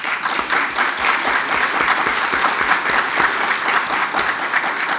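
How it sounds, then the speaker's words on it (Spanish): An audience at an academic congress inauguration breaks into steady, dense applause, many hands clapping together at a constant level from start to finish. "un aplauso para ustedes."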